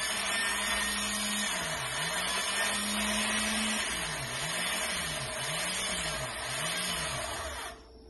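A sewing machine winds a bobbin with a steady mechanical whir and a looping, wavering motor tone, running continuously before stopping abruptly near the end.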